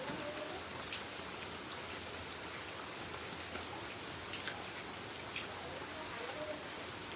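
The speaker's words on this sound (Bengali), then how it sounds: "খুব বৃষ্টি হচ্ছে নাকি?" Heavy rain pours down in a dense, unbroken wash of close hiss and patter that stays level from start to finish.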